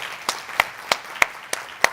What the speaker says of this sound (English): Please, let's give him a round of applause as well.